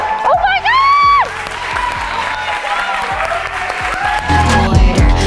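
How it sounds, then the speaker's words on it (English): A dance class crowd bursts into loud applause and cheering, with a voice and musical tones riding over the clapping before a second swell of noise near the end. "Can you give it up for REI"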